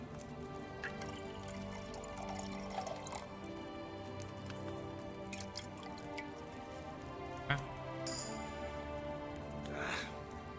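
Liquid pouring while brewing in Kingdom Come: Deliverance II: soft drips and trickles over a quiet background hum, with one brief splashy burst near the end.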